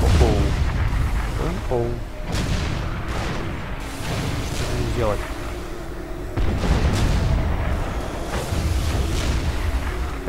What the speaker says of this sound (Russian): Артиллерия сильна.